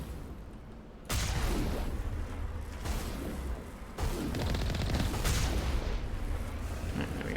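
Heavy gunfire from the Mako armoured vehicle in Mass Effect, a series of loud booming blasts with crashing impacts, bursts starting abruptly and continuing in dense, rolling volleys.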